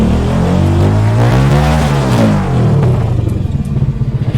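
A loud homemade car engine runs and revs steadily, rumbling up and down in pitch, then settles into a rough, pulsing idle.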